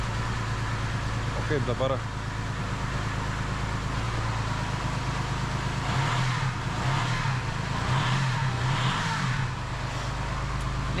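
An Audi car engine idles and revs after being started, with a steady low rumble and several throttle blips toward the end, heard alongside someone talking.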